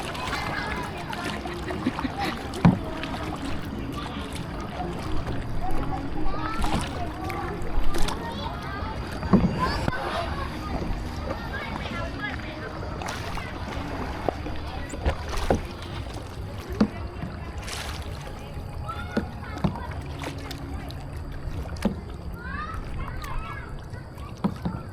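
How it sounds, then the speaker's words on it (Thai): A kayak paddle dips and splashes steadily on the Nam Song river at Vang Vieng, Laos, with soft water sloshes under near voices talking through the stretch. "พายไปเลยพายซ้ายพายขวาไปซื่อๆเลย"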